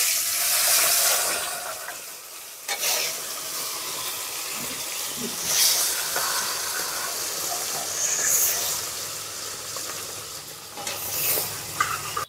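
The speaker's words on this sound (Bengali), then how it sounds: "এবার আমি বাকি মাছগুলো ভেজে নেব।" Fish sizzles steadily in hot oil in a home kitchen, a continuous frying hiss broken by occasional stirring clatter and scrapes from a utensil.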